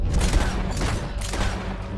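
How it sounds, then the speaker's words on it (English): Mauser pistol gunfire in Red Dead Redemption 2, heard as dense, loud shots that blur into a steady rattle of game combat noise over two seconds. "This Mauser pistol. It has some range on it."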